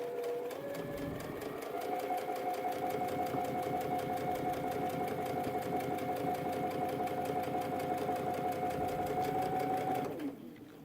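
A sewing machine stitches a pocket onto a backpack, running in one steady, close, continuous burst for about nine seconds before stopping.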